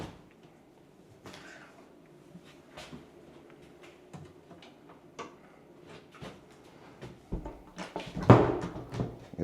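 A built-in coat closet cabinet in an original 1932 Spanish-style house in Leimert Park is popped open: soft knocks and clicks build to a louder clatter near the end, with no talk.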